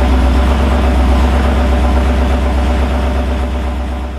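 A BMW E39 M5 with the S62 V8 runs at its first startup, a loud, steady low rumble with a throbbing pulse and no voices over it.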